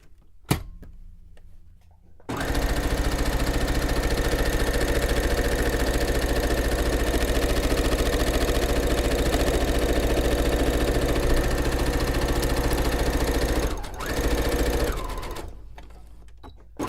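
A sewing machine runs steadily for about eleven seconds, stitching seams in men's button-up shirt fabric to form a pillowcase, with a loud continuous close-up motor whir and a brief stop near the end.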